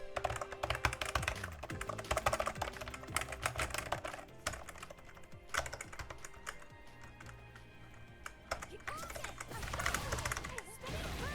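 Rapid clicky button presses on a HORI NOLVA leverless arcade controller in quick bursts and runs, close up, with steady tapping rhythm throughout and a faint low hum beneath.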